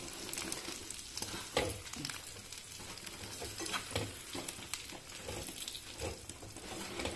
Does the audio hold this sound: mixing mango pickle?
yes